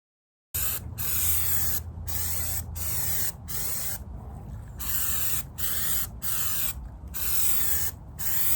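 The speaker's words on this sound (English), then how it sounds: "I just finished spraying my first coat of primer" Repeated hissing bursts from a spray can of primer, each lasting about a second, separated by short pauses, close and loud.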